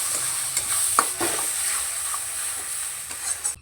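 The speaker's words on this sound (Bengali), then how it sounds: "তেল গরম করে নিয়েছি, অল্প দিচ্ছি একটুখানি কাশ্মীরি লঙ্কার গুঁড়ো। খুব ভালো করে মিশিয়ে নিলাম। যে পেস্টটা তৈরি করেছিলাম পেস্টটা ঢেলে দিচ্ছি।" Spice paste with Kashmiri chilli powder sizzling in hot mustard oil for a ridge gourd curry, a steady close hiss of frying with scraping stir strokes and light clinks throughout.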